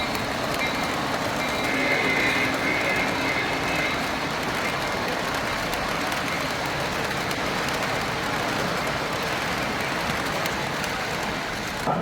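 A G scale model train runs at a large model railroad hobby show, producing a steady, dense rumbling roar that holds at an even loudness throughout, with no talking.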